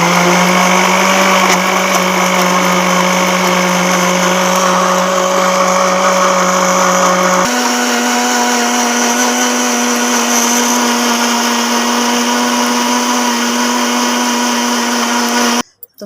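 Electric blender whirring loudly and steadily as it blends a mango milkshake with ice cubes, its motor pitch dropping partway through before switching off at the end.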